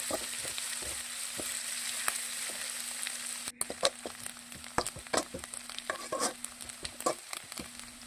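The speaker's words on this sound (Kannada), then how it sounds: "ಈಗ ಈ ಈರುಳ್ಳಿ ಸ್ವಲ್ಪ ಫ್ರೈ ಆಗಬೇಕು." Chopped onion frying in a pan for a chicken curry, a quiet steady sizzle with a low hum, then scraping stirring strokes and clinks of the utensil against the pan.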